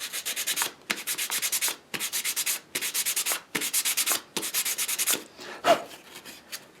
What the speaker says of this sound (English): how I'm going to do is just hand sand this up here with 180